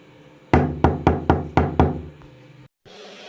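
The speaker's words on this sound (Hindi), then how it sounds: "वो बहुत परेशान हो गया। आखिरकार उसके दिमाग में आइडिया आया और वो मीना चिड़िया के घर उड़ता हुआ गया और दरवाजा" Cartoon door being knocked on: six sharp, evenly spaced raps in a quick run, close and loud, followed by a brief pause and faint background hiss, with no voices.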